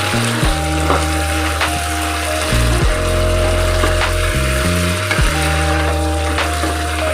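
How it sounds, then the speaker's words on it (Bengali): Chicken for chicken kosha, cooked with spices, cumin, tomato and yogurt, stir-fried hard in a pan, with a loud, steady sizzle under a strong low droning hum that cuts in and out, and no talking. "ঢাকনাটা খুলে নিয়ে জোরে করে আমি কষিয়ে নেব মাংসটা"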